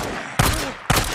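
Two loud, close gunshots about half a second apart ring out in the Days Gone video game, each a sharp crack followed by a brief echoing tail.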